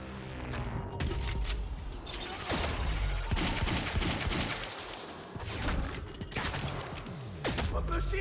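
Gunfire in the Quantum Break video game, a dense fusillade of shotgun blasts and bursts with crashes and mechanical clatter, loud and close, over game voices speaking.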